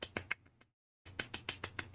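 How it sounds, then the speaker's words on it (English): A soft, quiet golf clap: light, evenly spaced pats of the hands, close and alone, briefly pausing before resuming. "Golf clap."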